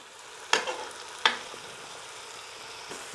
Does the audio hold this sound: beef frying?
yes